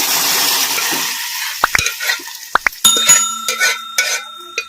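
Gongura dal hits a hot onion tempering for Andhra-style pappu, a loud sizzle that fades, followed by sharp metal clinks of a spoon against the pan and a ringing tone.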